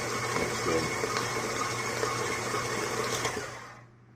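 A stand mixer whirs steadily as its paddle beats French cruller batter, the motor hum holding an even pitch before cutting off near the end.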